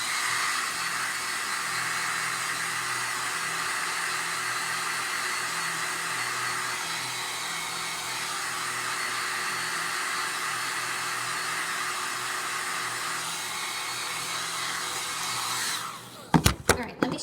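A hair dryer blows steadily to dry a wet transfer, a loud close continuous whoosh lasting most of the time before cutting off, followed by a few brief handling knocks.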